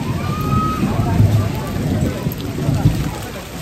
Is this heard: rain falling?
yes